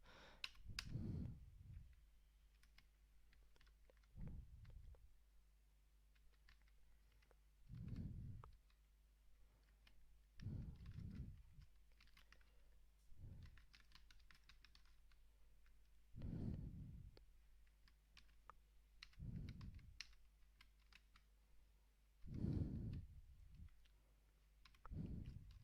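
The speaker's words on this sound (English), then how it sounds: "Some number I am typing here." Keystrokes on a computer keyboard while a number is entered into a Microsoft Word document, coming in short bursts of a few clicks separated by pauses, close and fairly quiet over a steady low hum, with no talking.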